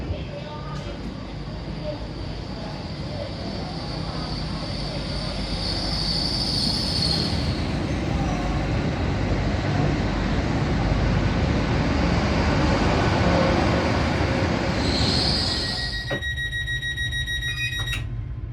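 Steady rumble and wheel noise from inside a Great Western Railway train bound for Cardiff Central, swelling louder midway, with high squealing tones and a ringing chime near the end.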